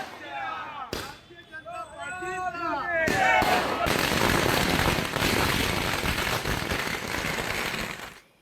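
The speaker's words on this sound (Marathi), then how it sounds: "अंजूर फाटा या ठिकाणी फटाके फोडून पेढे भरवत जल्लोष करण्यात आला" Firecrackers bursting at a political victory celebration at Anjur Phata, a few sharp cracks followed by a dense, continuous crackling barrage, loud and close, with a voice speaking before the burst begins.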